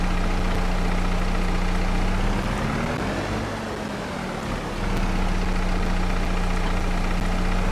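A tractor engine idles in Farming Simulator 22, a steady low rumble with a constant hum that dips slightly in the middle before settling back, with no talking.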